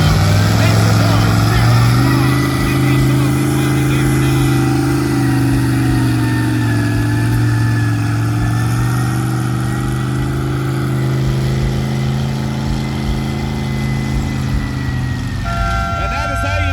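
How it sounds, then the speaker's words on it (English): A 1947 Gibson tractor engine on a modified 1949 Massey Harris 44 roars at an antique tractor pull at the Aldergrove Fair, a loud, close, sustained drone holding a steady pitch throughout. "that 1947 Gibson tractor on a modified 1949 Massey Harris 44"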